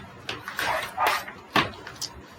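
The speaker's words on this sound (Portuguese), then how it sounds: "Esse é o horário do cachorro latir." A dog barking in the background, several short, sharp yelps and barks spaced unevenly over a couple of seconds, fairly close and loud with no talking over them.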